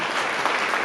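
A church congregation claps loudly for a moment, a dense, even wash of many hands heard close and alone.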